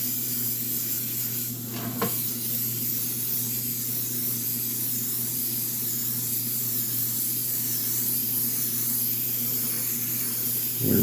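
An airbrush or spray can mists paint onto a model in a continuous close hiss over a low steady hum, lasting throughout.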